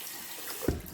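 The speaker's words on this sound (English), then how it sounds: "I'm actually going to rinse my face off a little bit more" Tap water runs into a sink as someone rinses their face, a faint, steady hiss and splash ending with a brief louder splash.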